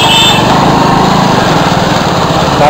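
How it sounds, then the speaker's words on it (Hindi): Vehicle driving on a dusty road during an off-road ride: a loud, buzzing small engine drones steadily and close throughout, with rough wind noise. "गाड़ी निकल रहा है देखो, बहुत धूल उड़ा रहा है भाई"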